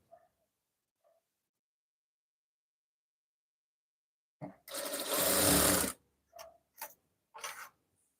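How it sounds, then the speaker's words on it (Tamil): Sewing machine stitching down the centre of a blouse: after near silence with faint clicks, a steady whirring run of stitches lasts about a second and a half, followed by a few short bursts. "நம்ம சென்டரில் ஒரு தையல் போட்டுக்கலாம்"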